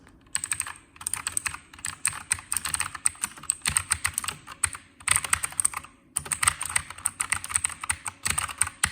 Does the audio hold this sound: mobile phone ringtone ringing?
no